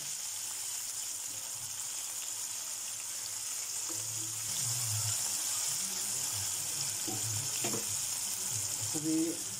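Chicken pieces fry in oil over low heat with a soft, steady sizzle, and a few light clinks and stirs can be heard against the quiet hiss.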